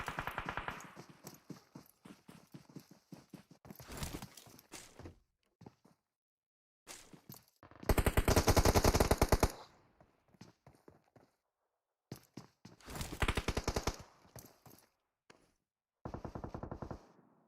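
VSS rifle gunfire in the battle royale game PUBG Mobile, several bursts of suppressed shots between quieter footsteps and game noises, rapid firing peaking loud in the middle and near the end, with no talk.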